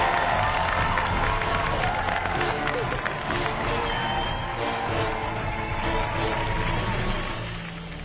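Returning contestants cheer and clap in the MasterChef kitchen, a loud, dense burst of applause and whoops that fills the room and then tapers slightly toward the end.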